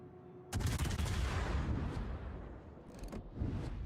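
Ship guns firing in the naval battle game World of Warships: a heavy blast sets off a sustained, booming roar of gunfire that fades and then swells again, loud and with no voices over it.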